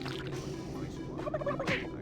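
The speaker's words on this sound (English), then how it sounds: "Punching turkeys." Game-sound turkey gobbling from the Turkey Puncher arcade minigame in Doom 3, a short electronic gobble rising near the end over steady background hum.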